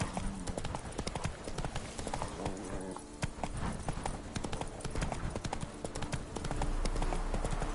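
Hoofbeats of Roach, a horse galloping in a video game, run as a steady, loud clip-clop over layered game music and ambience with no break across the whole stretch.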